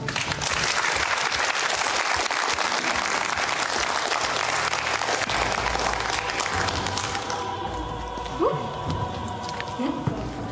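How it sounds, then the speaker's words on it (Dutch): An audience at a stage magic show applauds the magician's assistant before a water tank escape, a dense, sustained burst of clapping that thins out toward the end, with a few scattered sounds over it. "Dan wil ik nu graag een applaus"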